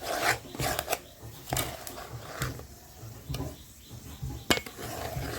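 A sugar and coconut mixture for laru is stirred in a pan, giving repeated scraping and rasping strokes of a utensil against metal, close and moderately loud, in an uneven rhythm.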